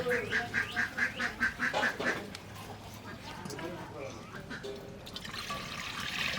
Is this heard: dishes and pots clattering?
no